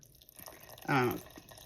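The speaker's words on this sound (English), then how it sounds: "add in 1 cup of beef broth" A cup of beef broth is poured into a pot for beef barbacoa, making a brief, close liquid splash that lasts only a moment against quiet kitchen background.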